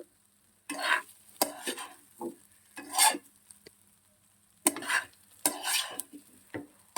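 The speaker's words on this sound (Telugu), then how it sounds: "ఎగ్ ఆనియన్స్ బాగా వేగిపోయాయి" Egg, onions and rice stirred in a pan for chicken fried rice, a spatula scraping and clattering in irregular bursts with light sizzling between strokes, near and without talk.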